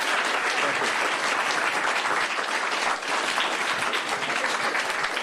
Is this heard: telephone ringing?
no